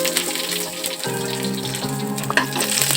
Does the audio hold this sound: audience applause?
no